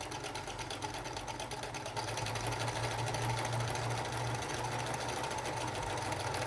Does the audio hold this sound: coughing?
no